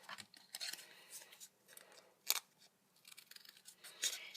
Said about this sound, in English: What I do is I cut them in little sections